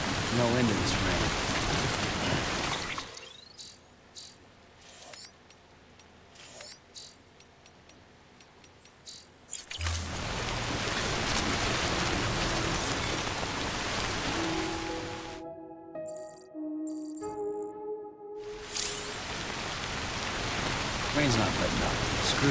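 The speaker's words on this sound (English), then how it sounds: "No end to this rain." Steady rain in the video game Death Stranding pours as a broad hiss, dropping out for long stretches under ticking and soft tones, then returning before a burst of chiming beeps interrupts it again.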